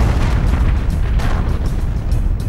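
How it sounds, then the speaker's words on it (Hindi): A boat chased by the coast guard blows up, heard as a loud, sustained deep rumbling roar with heavy low-end boom and crackling that fills the whole span. "नाव में जोरदार विस्फोट हुआ और वो आग के गोले में तब्दील हो गई।"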